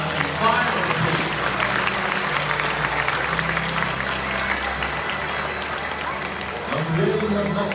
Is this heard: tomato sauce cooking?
no